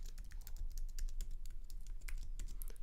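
Quick, light clicks of fingers on a computer keyboard while entering a password, a dense, uneven patter of keystrokes close by and fairly soft, with no voices.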